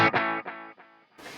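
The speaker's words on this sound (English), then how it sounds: "let's have a listen to what happens when I turn the delay block on." A distorted electric guitar chord played through a Fractal AX8 with a mono tape-style delay at 320 ms repeats in several fading echoes about a third of a second apart before a new chord starts.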